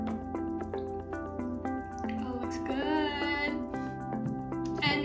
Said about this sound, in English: you're just gonna wanna pour this in as well.